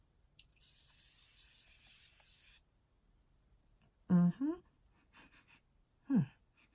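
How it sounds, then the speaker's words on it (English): A steady hissing spray of cake-scented baking setting spray lasts about two seconds from close by, then stops; a few brief voiced sounds and exclamations follow in an otherwise quiet room. "So spray, I'm going to use the spray first."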